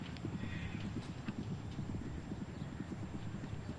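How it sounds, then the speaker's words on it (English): Hooves of well-bred polo ponies clip-clop in a steady, quick rhythm during a polo match at the EMAAR Polo Cup, a continuous patter of hoofbeats heard from a moderate distance, with light wind noise and no talking. "Very well-bred horse, Moneda"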